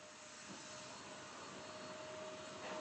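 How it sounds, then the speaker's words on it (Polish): A vacuum cleaner runs indoors with a steady, even whine and airy roar, fairly faint and unbroken throughout, with no one speaking. "Sorry, jakby byłoby słychać odkurzacz."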